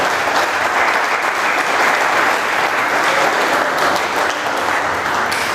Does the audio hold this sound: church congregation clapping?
yes